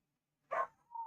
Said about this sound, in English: my doggo's making noise